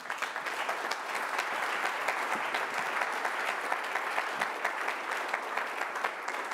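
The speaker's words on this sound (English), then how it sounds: "Yeah, we can give a big applause." A conference audience at FCC Week 2019 gives sustained applause in thanks for leading a study, dense even clapping continuing at a steady level throughout with no speech over it.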